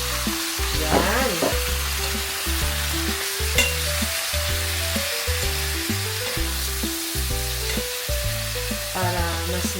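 Garlic, onion and plenty of meat sauté in a pan for afritada, giving a steady, close sizzle with stirring that runs the whole time beneath a prominent tonal musical background.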